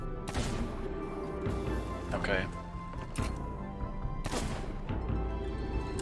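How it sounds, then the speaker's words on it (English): Heavy cannon blasts in a pirate video game boom out as a few sharp, broadband bursts spread through the clip, mixed with game noise and a person talking throughout. "There's a cannon I can use for him."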